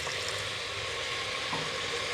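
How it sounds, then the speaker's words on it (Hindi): Water is added to masala frying in a pan for mutton paya curry, giving a steady hiss and bubbling sizzle that stays at an even level, close and continuous, with no talking. "हम इसमें 2 से 3 टेबलस्पून पानी ऐड कर लेंगे"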